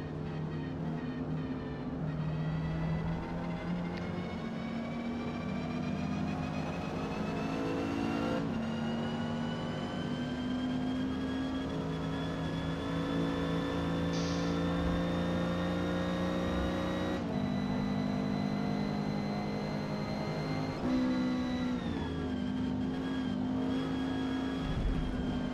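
A Renault 8 Gordini racing at Maple Valley in Forza Motorsport, its engine droning loud and steady at high speed, with rising and falling pitch as it shifts and carries speed through the corners.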